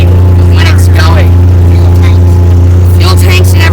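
A loud, steady low engine drone from an old Mule utility vehicle rumbles continuously up close while driving, with faint higher noises flickering over it.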